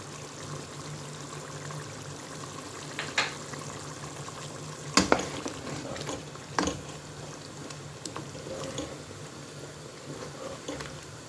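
Potatoes and carrots fry in a pan for chicken maqluba rice, giving a steady soft sizzle with a few sharper clinks and stirring knocks scattered through it.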